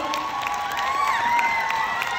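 Crowd at a fan event in Taipei cheering and shouting, with scattered applause and whoops, a steady loud mass of voices filling the space throughout.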